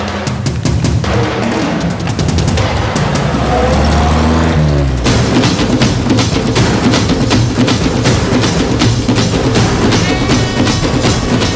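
A car engine roars steadily through a pursuit, with continuous road and motor noise, loud and close, a rising whine midway, and music or voices mixed underneath.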